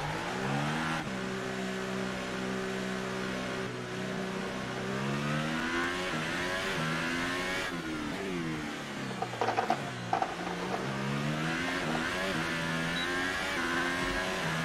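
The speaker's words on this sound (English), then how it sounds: "those engine sounds are extremely silent" A race car engine from the F1 2018 video game at the Austrian Grand Prix drones and whines steadily, its pitch climbing and dropping through repeated gear shifts, loud and continuous with no talking.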